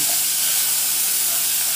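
Chopped onion sizzling in a hot pan while a dried-beef and pumpkin dish is being cooked, a loud, even, continuous hiss heard up close.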